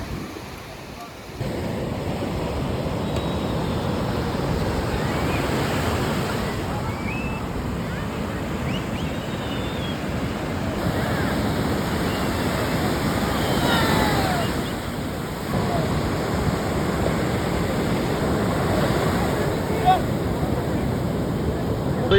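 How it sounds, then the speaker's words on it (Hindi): Sea waves crash continuously on the beach at Puri, Odisha, surging and rushing in close, with strong wind buffeting the microphone throughout. "लहर बहुत ज़्यादा आ रहा है"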